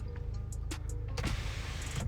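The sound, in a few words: car electric sunroof opening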